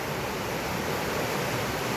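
Creek water pours steadily over a small weir near a retarding basin in Baulkham Hills, New South Wales, a close, even rushing wash with no pauses and no voices.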